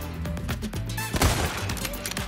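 Rifle shots in the 2023 remake of Resident Evil 4, a few sharp reports with one heavier blast near the middle, over a busy game soundtrack with faint talk.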